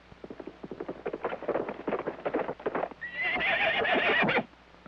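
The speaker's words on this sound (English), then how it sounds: "Hey, horse, come on over here." A cartoon horse whinnies loudly and close while its hooves clip-clop in a quick, steady rhythm, the neigh rising into a long bright cry before cutting off.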